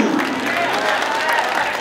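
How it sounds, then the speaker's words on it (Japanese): University breaking battle crowd at KING OF COLLEGE 2024 gives dense, sustained applause with scattered cheers after a Meiji University versus Hosei University semifinal, steady and loud throughout with no clear speech. "両大学に大きな拍手"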